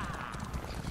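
Horse hooves clip-clop at a quick, steady pace in an Elder Scrolls video game, close and fairly soft, with faint voices in the background.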